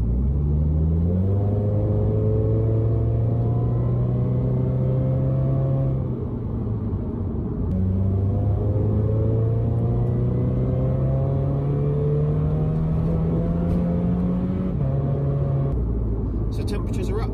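A Toyota GT86 / Subaru BRZ engine runs after start-up following repair of P000A–P000D engine codes. It gives a steady low drone whose pitch climbs in smooth steps and drops back twice, heard under talking.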